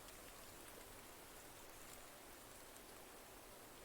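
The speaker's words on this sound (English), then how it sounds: "Are we hearing any rain at all" Rain falls steadily as a very faint, even hiss, a constant wash with no distinct drops or talk.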